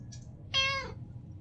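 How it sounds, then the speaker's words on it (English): A single cat meow in a video game, a short clear tonal cry rising over a quiet low hum, preceded by a faint brief chirp. "This is a Russian cat."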